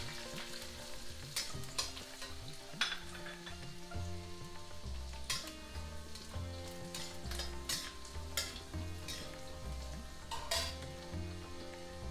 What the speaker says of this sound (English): Saute the ginger a little bit. Then you put the green chilies. Then goes in the almonds.